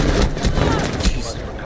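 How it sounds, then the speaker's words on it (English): Bursts of gunfire in the video game Rainbow Six Siege crackle in quick, dense volleys over a short stretch, loud and close, with a voice talking over them. "Because I shot him by mistake when I was trying to get the spout."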